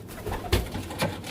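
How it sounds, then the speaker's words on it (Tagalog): Racing pigeons released from a loft, soft close cooing and a couple of brief wing flutters over quiet background. "Palabasin na natin mga kalapatids bago palabasin pa ng iba."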